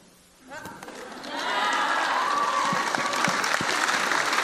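Indoor audience breaking into applause that swells after half a second into dense, sustained clapping, with voices mixed in among the crowd.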